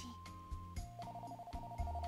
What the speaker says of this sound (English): wow, the phone's ringing